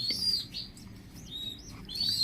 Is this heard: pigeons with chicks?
yes